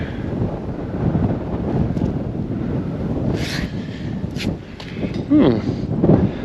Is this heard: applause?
no